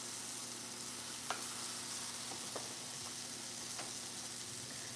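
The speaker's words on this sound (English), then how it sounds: "You might hear a little sizzling" Breakfast frying in a pan gives a steady, soft sizzle throughout, with a few faint clicks and taps over the hiss.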